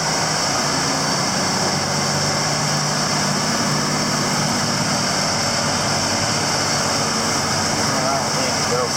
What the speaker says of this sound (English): This tractor does not warm up very fast, does it?